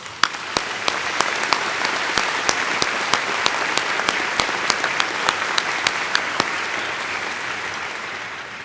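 A university convocation audience gives steady, sustained applause for the graduates, a dense wash of clapping with sharp individual claps standing out at regular intervals before it gradually thins toward the end.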